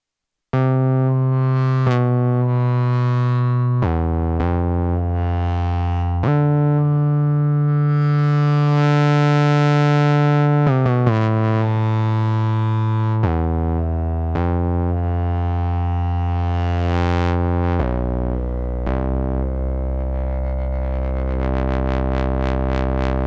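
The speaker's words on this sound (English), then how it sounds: "let's listen to it with reverb and delay" A synthesizer plays a sequence of sustained buzzy sawtooth tones from The Carpenters SAW/DUST floppy disk, each note trailing off into a reverberant wash with echoing repeats.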